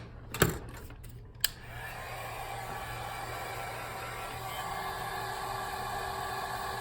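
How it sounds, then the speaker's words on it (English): Heat gun blowing hot air onto a laptop chip during reflow, starting with a couple of sharp clicks, then a steady loud whooshing blower hum that holds on without change. "And mind you, this is a heat gun. This is not a blow dryer, so this will get pretty hot."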